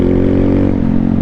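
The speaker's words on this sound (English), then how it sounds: "It almost sounds like a dirty carb, like where it starts bogging out." A pit bike engine with a suspected dirty carburetor runs loud and close in a steady, rough drone that sags slightly partway through.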